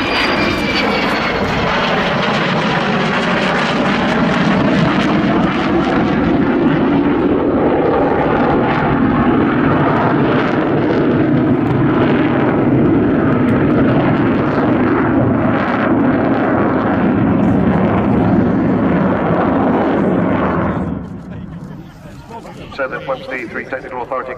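Avro Vulcan XH558 jet bomber at an airshow at RIAT 2015, a loud sustained roaring howl that dominates for about twenty seconds before dropping away, with a voice talking over it.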